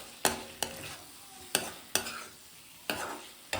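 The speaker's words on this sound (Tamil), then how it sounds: "உருளைக்கிழங்கு வந்து இப்போ நல்லா மிக்ஸ் பண்ணிக்கணும்." Potatoes are stirred into frying tomato and chilli, with sharp spoon scrapes against the pan at an uneven rhythm over a low background sizzle.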